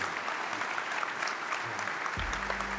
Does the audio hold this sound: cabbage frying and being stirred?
no